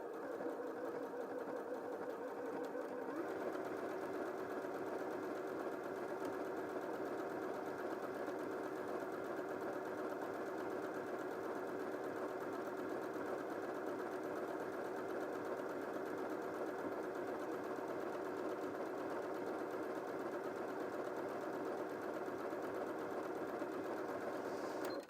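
A Janome M100QDC sewing machine stitches fabric with a steady, even mechanical hum that continues without pause, close by and moderately quiet, with no voices.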